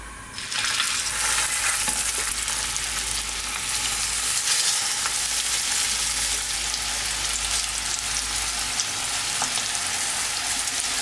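Hamburger patties searing in an oiled frying pan over medium heat, a loud, steady, unbroken sizzle close by.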